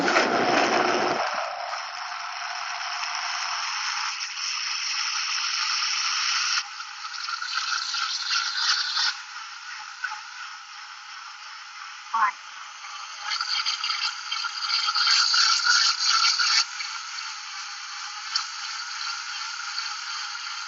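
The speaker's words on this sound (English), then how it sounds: "So into the Vitamix, we're going to put the top right on. Okay, and now we are going to start this up and just start blending." A Vitamix blender running with soup inside, a steady band-limited whir for about twenty seconds with shifts in pitch and intensity as the contents churn, fairly quiet.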